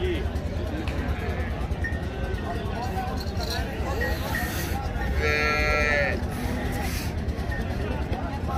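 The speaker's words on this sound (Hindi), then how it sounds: "मल्लू मोड़ मंडी के अंदर भैंसें भी मौजूद हैं जी।" Buffaloes moo at the Mallu Mor livestock market, several drawn-out bellows rising over a steady crowd murmur and background chatter, moderately loud and close to mid-distance.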